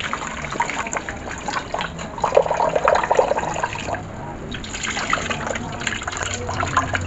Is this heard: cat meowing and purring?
no